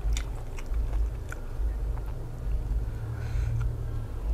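Crispy grilled squid from a Thai street market being chewed close up, with steady crunchy bites and wet mastication repeating for several seconds, no speech over it.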